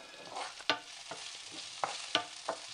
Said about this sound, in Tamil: குடமிளகாவையும் போட்டு வதக்கலாம்.